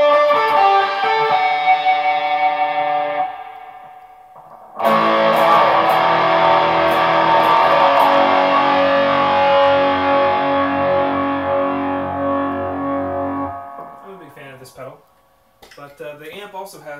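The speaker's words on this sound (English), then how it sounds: "I've also got a distortion pedal. It's a Metal Zone MT2 by Boss." Electric guitar played through a Boss Metal Zone MT2 distortion pedal into a Fender Hot Rod Deluxe III amp with reverb: a heavily distorted sustained chord ringing out, a brief pause, then a second long loud chord fading into a few quieter picked notes.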